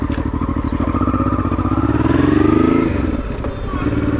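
A Honda Transalp 650 motorcycle pulls out of a parking lot, its engine thumping in a close, loud, rapid pulse that rises briefly in pitch as it revs, then settles back to a steady idle-like throb.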